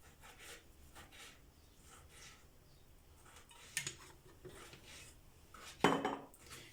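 Chicken shawarma pieces being stirred in a dish with olive oil, salt, spices and lemon juice, giving soft faint scraping and rubbing with a couple of sharper clinks of a utensil against the bowl, no talking.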